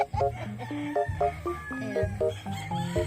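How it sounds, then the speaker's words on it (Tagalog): At a chicken farm in Pangasinan, chickens cluck in short, repeated, close bursts while a rooster crows, with no talk over the birds. "Ay, manok."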